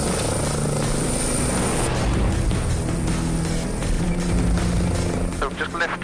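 An air ambulance helicopter hover-taxis close by, its rotor and turbine making a steady loud whine and thrum, with a voice speaking faintly underneath.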